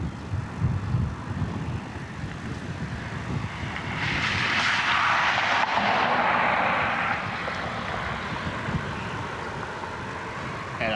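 Southwest airliner pushing back at Cleveland Hopkins airport, a steady jet engine whine and rumble that swells in the middle and then settles, heard from some distance with no talk.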